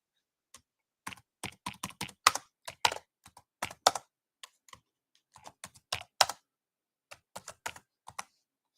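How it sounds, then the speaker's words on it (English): Typing on a computer keyboard, with quick bursts of crisp key clicks separated by short pauses. The clicks are close and clear, and no one speaks. "I'm going to type it here on YouTube."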